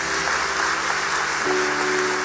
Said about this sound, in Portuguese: Vamos aplaudir essa graça